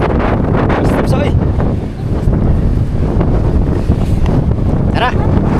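Strong wind at a fishport buffets the microphone with a constant loud roar, and voices talk intermittently beneath it.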